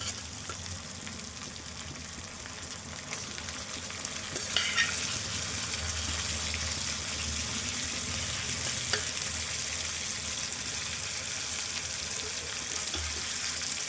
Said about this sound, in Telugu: ఇప్పుడు ఉల్లిపాయ వేగింది కదా చికెన్ వేసుకుందాం ఇందులో శుభ్రం చేసిన చికెన్ అయితే ఇందులో వేసుకుందాము